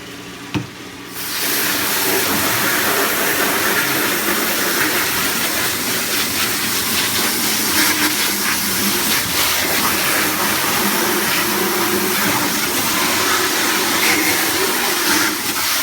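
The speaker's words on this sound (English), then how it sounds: "then I go grab the hose now and wash it out" Garden hose spray washing out an aquaponics filter, a steady loud rushing hiss that starts abruptly after a quiet second and runs on unbroken, close by and without speech.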